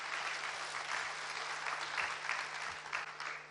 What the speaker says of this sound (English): Please give a big round of applause to show the unity or spirit for this incredible morning.